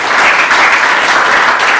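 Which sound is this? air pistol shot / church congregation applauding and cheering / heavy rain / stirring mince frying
church congregation applauding and cheering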